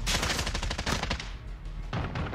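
Automatic gunfire from Call of Duty Modern Warfare in a free-for-all match: rapid, loud bursts of shots, a short lull, then more firing.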